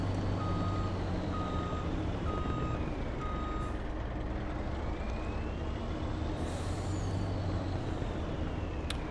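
A truck with an extended chassis in a farming video game, set on a dark forest map, reverses with steady evenly spaced beeps over a loud continuous engine rumble and a short hiss near the end.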